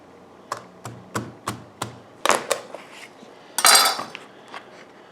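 A knife working through an acorn squash on a cutting board, giving a row of sharp, evenly spaced knocks followed by heavier crunching thuds as the squash splits in half, close and clear.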